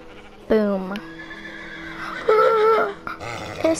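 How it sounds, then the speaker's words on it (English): A Minecraft horse neighs in two shrill, wavering whinnies separated by a short gap, loud and close against a quiet background. "It's a horse."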